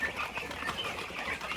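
Young farm poultry in an indoor brooder barn, a steady busy murmur of many birds chirping and calling together at moderate volume.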